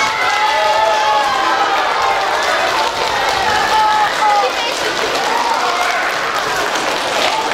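An audience applauds at the opening of the Svarozhichi festival in Podolsk. A loud, continuous wash of clapping and crowd noise runs throughout, with voices audible over it.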